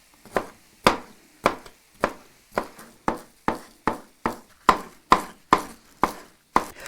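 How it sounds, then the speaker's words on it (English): Pizza toppings are chopped with a knife on a board, about fifteen crisp, evenly spaced knocks over several seconds, close and clear with quiet gaps between them. "let's go ahead and start chopping up some of these other toppings."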